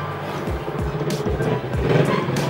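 Cars drive past on a street in Yazd, Iran, several vehicles passing in quick succession with rumbling engines and tire noise, close and moderately loud.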